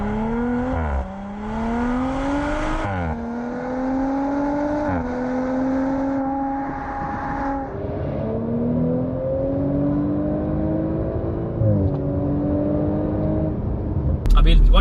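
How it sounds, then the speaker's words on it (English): A 2018 Audi RS4 Avant V6 engine revs hard through repeated rising gear pulls, each climb cut by a shift, loud and continuous for the whole stretch. "And the new V6, as you can hear now, they've released a few sound clips"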